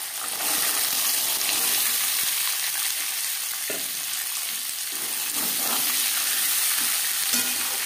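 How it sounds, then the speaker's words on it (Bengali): Panch phoron, a five-spice mix, frying in hot oil, a dense, continuous crackling sizzle heard close up, with occasional soft knocks from a spoon. "পনেরো 20 সেকেন্ড 5 ফোড়ন ভেজে নেওয়ার পর দিয়ে দেবো শিমের দানা"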